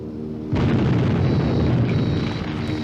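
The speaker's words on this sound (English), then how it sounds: "Then a large explosion rocked the entire bomber" A large explosion rocks a bomber aircraft, bursting suddenly into a loud, dense roar that rumbles and sustains after a steady low background hum.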